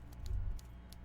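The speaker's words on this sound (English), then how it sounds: "I like the sound of that typewriter." Typewriter keys in the video game Disco Elysium, a few sparse, separate clacks heard faintly over a low room hum.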